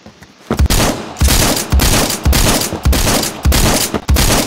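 Repeated shotgun blasts from a shooter game set in a Roblox combat match, about six loud, near shots in an irregular rhythm roughly every half second to second, with no talking.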